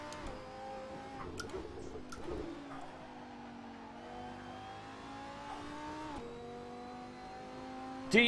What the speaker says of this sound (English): Silent Storm almost losing control of his car there.